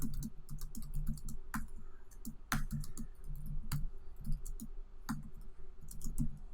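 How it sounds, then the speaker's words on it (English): Someone types an email on a computer keyboard, a quick irregular run of close, crisp key clicks with occasional heavier strokes, steady and unaccompanied by speech. "Start typing an email."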